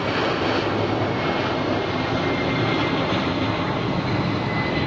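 A Boeing 767 jet climbing steeply on takeoff from Phoenix Sky Harbor airport, its engines a loud, steady, broadband roar that holds without letup from start to finish.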